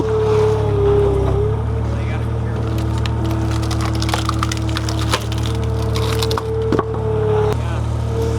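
A Wolfe Ridge SS282 log splitter driven by an idling Gale 4835 SXT skid steer forces wood through a wedge, with a steady engine drone under sharp splintering cracks and snaps of the log breaking apart.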